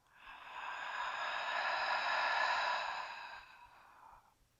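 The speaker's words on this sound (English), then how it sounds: "Open mouth, exhale." A long, soft open-mouth exhale during yoga breathing rises and slowly fades over a few seconds, breathy and close, alone in a quiet room.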